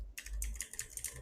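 Typing on a computer keyboard, a quick irregular run of close, crisp key clicks over a quiet background.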